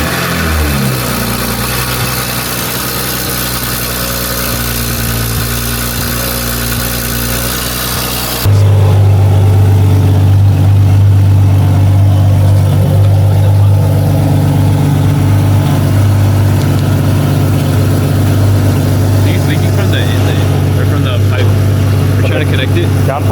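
A BMW engine fitted with a new SSR aftermarket downpipe sits quietly, then abruptly fires up and settles into a loud, steady, droning idle close by for the rest of the stretch.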